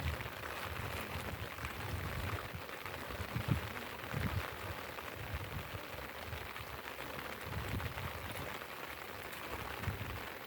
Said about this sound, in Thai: ฝนตกไปด้วย ทำนาไปด้วยฮะ